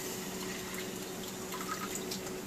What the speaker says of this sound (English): put 2 1/3 cup of water into the pan